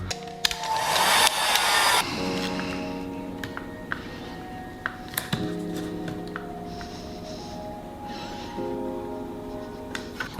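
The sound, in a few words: heat gun warming vinyl wrap film on BMW 1 Series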